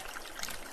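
A supply pipe runs water into a fishpond canal on a rural farm, giving a brief, steady trickling stream of moderate loudness.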